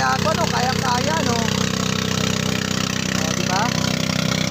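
Steady, loud drone of a motorized outrigger boat engine pulling two floating cottages off Calatagan, Batangas, running continuously beneath voices chatting over the noise.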